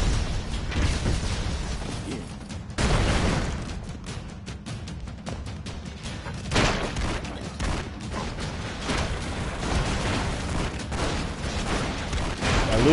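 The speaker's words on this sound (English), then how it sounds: "Big ass gun." Heavy video-game gunfire from a big gun, with dense bursts and booming blasts running continuously and loudly for the whole stretch, with no talk over it.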